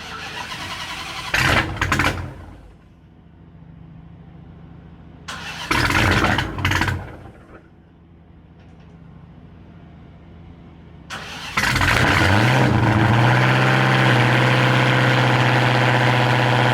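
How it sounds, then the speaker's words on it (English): A Dodge Hellcat V8 cold starts after two cranking attempts, with short loud bursts and quiet gaps before it catches and settles into a loud, steady, rumbling idle close by, with no talking. "let's get a cold start on the Hellcat"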